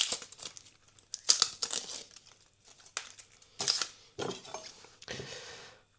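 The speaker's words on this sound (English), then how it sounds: "all I'm just going to do now is just peel the onion" Dry onion skin is peeled by hand in a kitchen while making chicken chow mein, a run of close crinkly rustles and crackly tearing bursts with short pauses between them.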